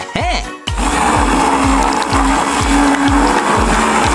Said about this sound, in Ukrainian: тепер збиваємо кавун блендером